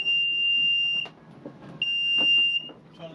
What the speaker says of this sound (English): It is a man overboard alarm that you can trigger via the AIS beacon